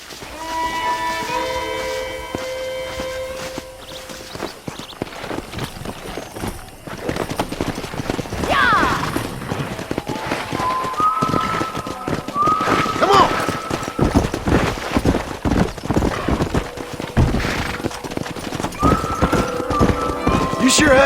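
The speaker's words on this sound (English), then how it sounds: "Let's see if we can't wrangle some horses." Horse hooves clip-clop and horses whinny during ranch horse wrangling in the Red Dead Redemption video game, with repeated hoofbeats, a few neighs, and game music and dialogue layered over them.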